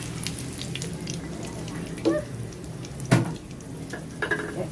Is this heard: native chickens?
no